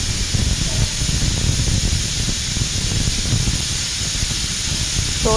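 A pressure cooker whistle releases steam while farm chicken curry cooks on the stove, giving a steady, loud, continuous hiss that runs unbroken for the whole stretch.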